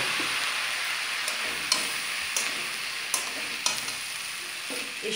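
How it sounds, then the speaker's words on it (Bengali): Vegetables being stirred in a pan with salt, turmeric and moong dal, a close, steady sizzle with occasional sharp spoon taps and scrapes against the pan, no voices. "নুন হলুদ ডাল সব কিছু দিয়ে এই সবজির সাথে মিশিয়ে নেব।"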